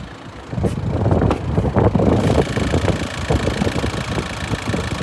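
A 2003 Volkswagen Touran engine idles steadily and evenly, a low continuous rumble with a few brief knocks near the start, no voices.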